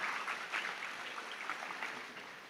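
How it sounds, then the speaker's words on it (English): Short burst of audience applause at a university undergraduate orientation programme, soft and fairly distant, steady clapping throughout with no voices over it. "Please give a round of applause to Mr."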